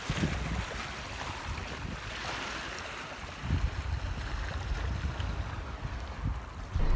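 Sea waves wash onto a Scottish beach as the tide comes in, a steady broad rushing surf roar with gusts of wind buffeting the microphone, close and continuous.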